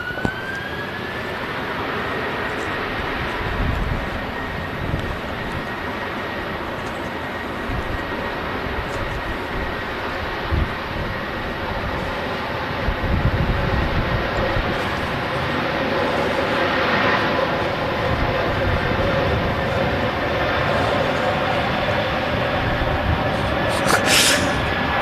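An Aer Lingus UK Airbus A330 at Manchester Airport produces a sustained engine drone with a steady high whine running through it, continuous and moderately loud across the whole stretch.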